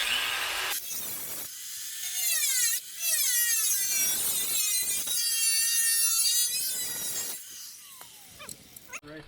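A grinder working down the edge of a carbon fiber fender on an Infiniti G35 being converted to a G37 front end, a loud high whine in repeated passes that drops away into brief gaps.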